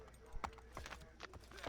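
A horse ridden by a pumpkin-headed Headless Horseman gallops off in Assassin's Creed III Remastered, faint quick clip-clop hoofbeats in an uneven rhythm over quiet game ambience.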